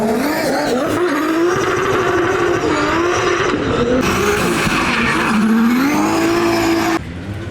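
A race car screams along at full throttle through gears, its engine note steady and loud with rising pitch sweeps and some tire squeal, close and continuous without talk.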